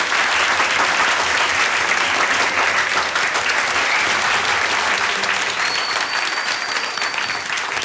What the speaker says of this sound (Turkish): Alkışlar kendisine.